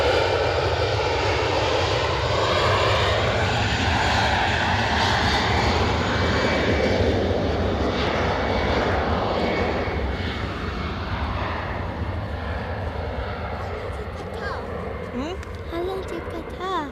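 A plane takes off at Edinburgh Airport, its engines a broad, loud, sustained roar that slowly tapers as it climbs away, with voices talking over it.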